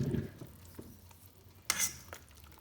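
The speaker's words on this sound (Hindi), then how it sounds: "चिकन को करते हैं सॉस के अंदर अच्छी तरह से मिक्स" Fried chicken gets stirred into a thick cornflour sauce in a pan for sesame chicken, with a few soft scrapes and a light sizzle, then one sharper clatter of a spoon against the pan.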